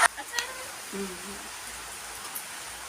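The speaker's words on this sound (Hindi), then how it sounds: "और बारिश इतनी तेज़ हो रही है ना" Heavy rain falls in a steady, even hiss that fills the whole stretch, with a few faint brief sounds mixed in.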